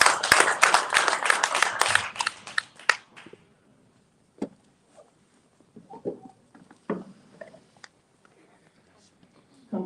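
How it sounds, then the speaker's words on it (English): An audience at a Black History Weekend community event breaks into dense, loud applause for about three seconds. It then thins to a few scattered, fading claps and faint murmurs. "So just applaud yourself"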